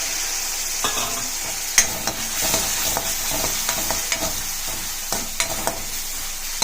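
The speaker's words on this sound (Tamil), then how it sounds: "நல்லா வதங்கட்டும் இந்த வெங்காயம்." Onion and tomato sauté in hot oil with cardamom for a field-bean kurma, making a continuous loud sizzle close by. The occasional scrape and tap of a stirring spoon breaks through, and no one talks.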